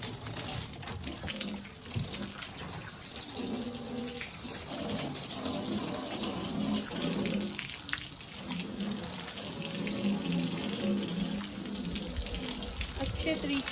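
Water gushes from a hose pipe over a table being washed outdoors, a steady close spray and splash that continues throughout with no voices.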